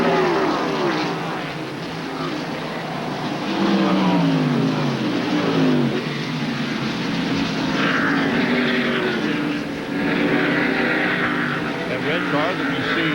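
NASCAR stock cars race at Watkins Glen in 1994, with engine drones rising and falling as cars pass at a distance, heard under steady commentary.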